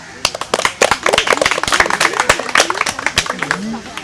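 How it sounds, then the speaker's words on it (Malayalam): An audience claps for a young quiz contestant named Milan after a correct answer, a dense burst of hand claps running throughout with some voices mixed in. "അപ്പോൾ മിലന് നല്ലൊരു ക്ലാപ്പ്"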